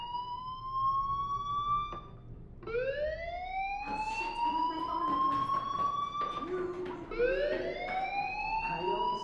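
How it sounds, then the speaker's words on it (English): A fire alarm wails inside the video game Life Is Strange, with repeated rising electronic sweeps that restart every couple of seconds, loud and insistent over a quiet background. "Hey, do you hear that fire alarm? That means you should be outside."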